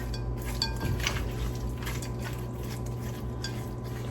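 Watermelon salad being tossed in a bowl, with soft scraping and light clinks of a utensil against the dish over a steady low background hum, fairly quiet and without talk.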